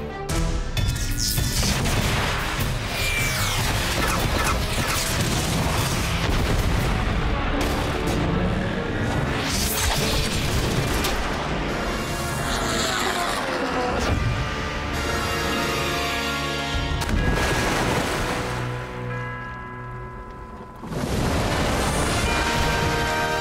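Magma pistols firing in an animated Voltron Force cartoon battle: a dense, continuous barrage of loud booming blasts and crashing impacts, with brief dips between volleys.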